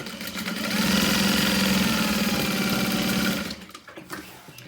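A sewing machine stitches up the lining of a wristlet, a fast steady mechanical whir running for about three seconds before stopping, close and alone, followed by a few faint handling noises.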